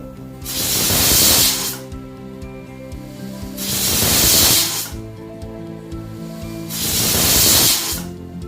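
A pressure cooker on the stove cooking yam lets out three loud, close hissing bursts of steam, each lasting about a second and a half with quieter gaps between them.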